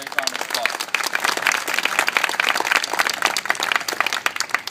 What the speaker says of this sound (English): Let's give Sam and all the staff a great round of applause